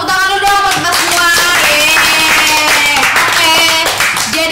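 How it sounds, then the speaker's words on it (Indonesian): A group of people clap their hands at the close of a casual podcast chat session. The clapping sits under a loud, continuous bed of music and voices. "Tepuk tangan dulu dong buat kita semua"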